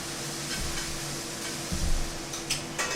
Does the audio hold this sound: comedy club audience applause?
no